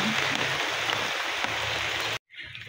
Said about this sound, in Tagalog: Kaya kusog ang ulan mga kaidol, no?